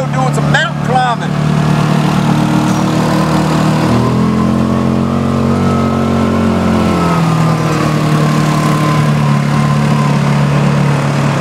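A 2019 Kawasaki Mule PRO-MX side-by-side climbs a mountain trail in four-wheel-drive low, its engine droning steadily with rising and falling revs as load changes, loud and close, while a voice talks briefly at the start.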